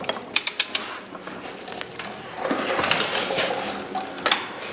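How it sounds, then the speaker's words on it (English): A wrench tightens a bolt on a Ponsse Buffalo forwarder axle, giving a quick series of close metallic ratchet clicks followed by a stretch of scraping and clanking mechanical noise. "So right now you're just tightening it, then you're gonna need the torque wrench?"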